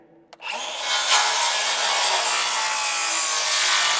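A wooden board slides into an opening, first a light knock and then a continuous scraping rub of wood on wood that holds for several seconds, close and clear.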